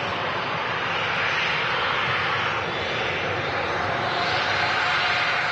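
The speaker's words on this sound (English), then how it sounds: "The next arrival will be a Jetsu 757 from Geneva." Jet2 Boeing 757, a 28-year-old airliner arriving at Manchester Airport, makes a steady, loud broadband engine roar that holds evenly throughout without breaks, with no talk over it.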